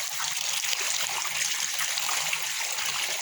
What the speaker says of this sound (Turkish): Kar gibi yıkayacağım bunu şimdi ben arkadaşlar.